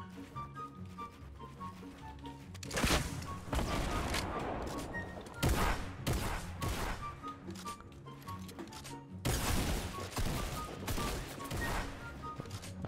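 Bursts of gunfire from a shooter video game crackle repeatedly in dense volleys, with fast rattling fire alternating with quieter stretches of scattered shots.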